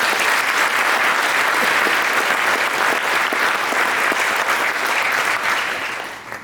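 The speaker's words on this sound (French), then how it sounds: "Je pense qu'on peut les applaudir." Sustained applause from a concert audience at the 2022 spring concert by Argentovaria in Horbourg-Wihr fills the room steadily and loudly, then tapers off at the very end.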